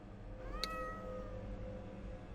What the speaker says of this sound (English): Not feeding you the hand, you creepy cat!